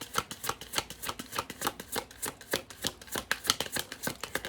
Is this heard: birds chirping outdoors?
no